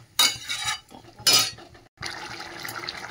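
A lid set over a cooking pot of cauliflower and potato curry: two sharp metallic clatters about a second apart, then a short pause and a steady soft hiss from the pot.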